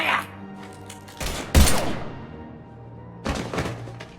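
Gunfire in Mass Effect 3 on a console, a few sharp bursts and heavy thumps breaking over a low background, with a brief loud blast in the middle.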